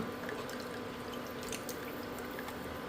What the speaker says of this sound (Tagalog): maglalagay tayo ng isang tamong tubig o isa't kalahating litrong tubig